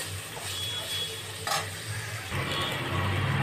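Vegetables, including potato, lightly frying in a pan for sago pulao: a steady close hiss of sizzling oil with occasional stirring scrapes and a faint utensil clink, with no talking.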